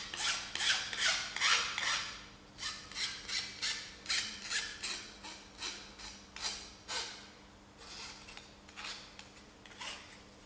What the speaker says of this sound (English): You're not trying to file it down, so just rub gently.